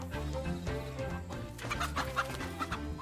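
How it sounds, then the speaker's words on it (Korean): A single chicken on a farm clucks repeatedly in an uneven rhythm, close and clear, with sharper squawk-like notes toward the end over a low steady background. "다급한 목소리와는 달리 유유자적한 모습의 닭 한 마리"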